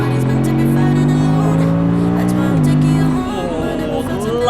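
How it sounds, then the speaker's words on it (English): An Audi sports car's rear-mounted engine revs steadily and loud, its pitch dipping briefly as if shifting gear, then climbing again, close and continuous. "can really hear the engine in the back"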